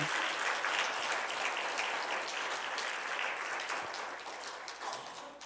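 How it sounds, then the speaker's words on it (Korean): Audience applause for pastors of a church district gathering at a church in Mokpo, a dense, steady wash of clapping from a large hall that slowly thins toward the end. "큰 박수 한번 보내주시겠어요"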